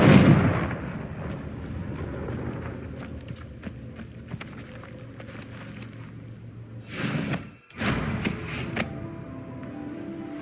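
Confringo fire spell in the Hogwarts Legacy video game: a booming blast at the start fades into a rumbling roar, followed later by a second burst and a sharp cutoff, loud with no talking.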